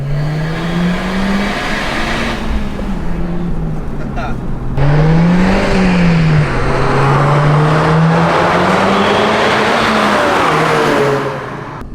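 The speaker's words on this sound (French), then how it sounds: "Écoutez ça, 4000 tours minute, pied au plancher." An Audi A1 Quattro engine revs hard to 4000 rpm in second gear under full throttle, climbing in pitch, dropping briefly before surging again, loud and close, with a faint voice underneath.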